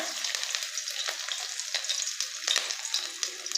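Steady crackling sizzle of garlic ginger paste frying in hot oil, with soft stirring scrapes mixed in; close and fairly quiet, no voices.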